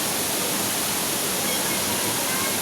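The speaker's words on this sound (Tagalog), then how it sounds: "Talon." A waterfall roars as a loud, dense, unbroken rush of water, close by and steady throughout, drowning out any other sound.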